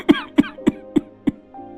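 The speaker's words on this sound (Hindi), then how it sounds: "ये खांसी बढ़ती जा रही है" Five harsh, evenly spaced coughs from an elderly man at home during a cold spell, each short and close, followed by a faint exhale.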